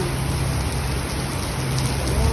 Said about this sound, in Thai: ฝนตกหนักมากเลยค่ะ